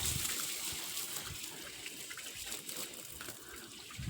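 Water pumped by a motor pours into a storage tank at a house under construction, making a continuous, fairly faint rushing gush with no breaks and no voices.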